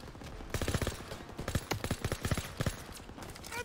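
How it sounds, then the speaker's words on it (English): Machine gun fire in the World War II shooter Call of Duty WWII, several fast bursts of sharp rattling shots at moderate distance with short gaps between them, no speech over it. "MG in the halo! Take cover! Hit the MG!"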